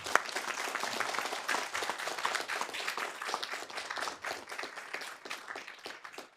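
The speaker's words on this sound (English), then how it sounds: "So I'd like to give them a round of applause." A council meeting audience applauds police officers, steady dense clapping from a roomful of people that carries on for several seconds before slowly thinning.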